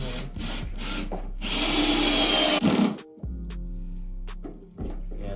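A power drill whirs into wooden floorboards under carpet in loud sustained bursts, grinding and stopping, then restarting with a lower motor hum.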